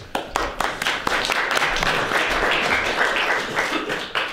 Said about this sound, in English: Please don't applaud, you haven't heard what I'm going to say yet